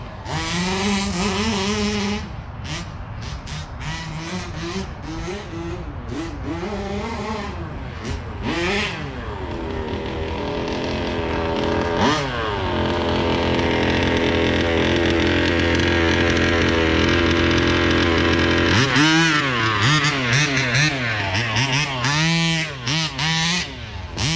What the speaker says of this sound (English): sounds like a weed whacker motor.